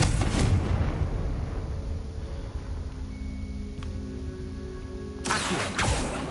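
A Confringo fire spell blasts in the Hogwarts Legacy video game, a loud booming burst at the start and another near the end, with a quieter rumbling stretch between them and no talking.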